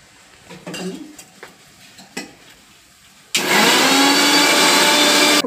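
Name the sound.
blender grinding tomato and coriander leaves into paste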